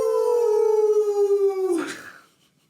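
A person imitating a wolf with a long, steady, sustained howl that bends and breaks off into a short rough trailing end, loud and close, alone without other talk.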